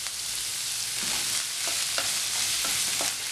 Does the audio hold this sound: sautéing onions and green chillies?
yes